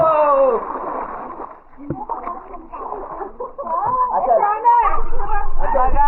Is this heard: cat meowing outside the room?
no